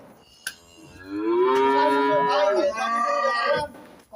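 A Holstein Friesian dairy cow at a cattle sale lets out one long, loud, close moo that swells and then fades after a soft knock.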